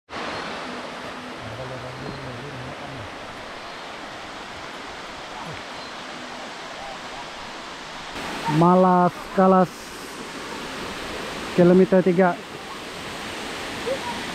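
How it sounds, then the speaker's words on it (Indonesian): Steady rushing water from a waterfall beside a hiking trail fills the whole stretch as a constant broadband roar, with a voice speaking briefly over it twice near the end. "Dia punya air terjun, mantap."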